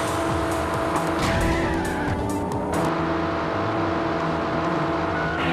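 Video game sports car chase through oncoming traffic, with continuous engine roar and repeated screeching tyre skids, loud and busy throughout with no talking.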